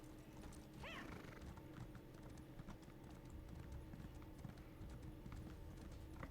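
Continuous clip-clop of a horse's hooves at a steady trot, with a short whinny early on, fairly close and consistent throughout.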